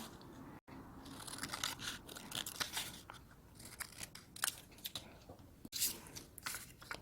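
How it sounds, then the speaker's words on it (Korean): Scissors snip through colored paper during a paper-folding craft, a run of crisp, close cutting crunches with brief pauses, loud and alone without talk. "여기 선을 따라 가위로 잘라서"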